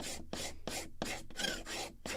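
Sandpaper rubs the lower part of a wooden mast for a 1776 gunboat Philadelphia kit model in quick, even back-and-forth strokes, about seven close rasping passes in a steady rhythm, heard up close with no talking.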